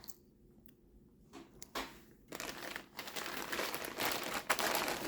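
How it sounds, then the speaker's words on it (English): Plastic packaging bags crinkle and rustle while being opened during a PC power supply unboxing, quiet at first and then building into louder, continuous crackling handling noise close to the microphone. "Got lots of plastic bags to cut open."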